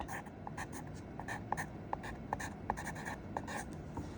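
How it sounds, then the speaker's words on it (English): Pen or marker writing out a math expression in a lesson: steady scratchy strokes with brief taps between, continuous for several seconds, close and fairly quiet. "I'll write that out."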